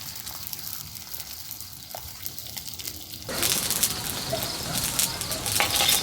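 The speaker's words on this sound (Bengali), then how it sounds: "এক একটা করে পরোটা ভেজে নিচ্ছি বন্ধুরা" A paratha fries in oil in a home kitchen: quiet background for three seconds, then a sudden, loud, bubbling sizzle that keeps going, close up.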